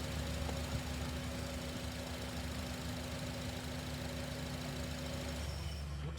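A car engine idles with a steady knocking rumble and a constant tone, then stalls near the end as the sound drops away, with no one talking.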